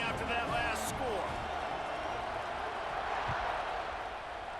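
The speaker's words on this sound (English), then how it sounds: "this crowd is buzzing after that last score" Stadium crowd noise from EA Sports College Football 26, a dense, steady roar of many voices buzzing at a football game before a kickoff, broad and continuous throughout, with a commentator's voice speaking over it.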